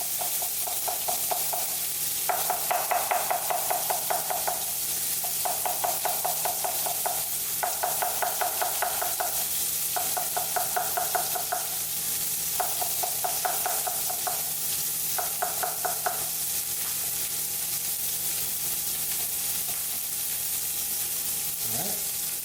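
Beef sizzles and cooks down in a pan under a steady frying hiss, while repeated rhythmic bursts of stirring or scraping come in regular groups before settling back to the constant sizzle, with no talk.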